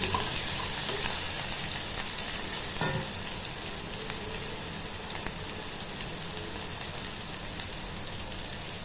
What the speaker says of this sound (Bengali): ভাজার সময় আমি একটু খুন্তি দিয়ে নেড়ে নেওয়ার পর আমি একটু নুন দিয়ে দেব